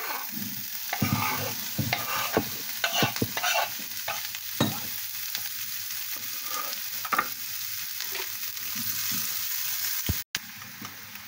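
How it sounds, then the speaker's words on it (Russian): Chopped onion sizzles steadily in oil in a pan while being stirred, with scraping and clatter from the utensil breaking through the crackle. "И в этом же масле обжариваем мелко порезанный лук."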